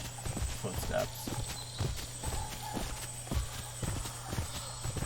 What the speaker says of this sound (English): hopefully they use a new sound system when doing these footsteps